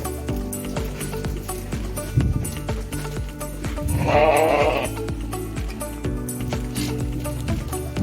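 Goats kept on a farm in Saudi Arabia bleat a few times amid a busy pen, with shuffling, hoof clatter and other animal noise around them, fairly close.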